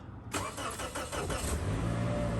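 A diesel Ford F-250 pickup truck cold starts in freezing weather with its block heater plugged in; the starter cranks briefly and the engine catches, settling into a loud, steady idle rumble close by.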